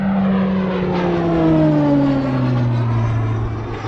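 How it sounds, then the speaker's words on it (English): An RAF fast jet trainer passes low overhead near Anglesey, a loud, close engine roar with a clearly falling pitch as it goes by, sustained and alone without talk. "That's a jet trainer, fast jet trainer in Anglesey"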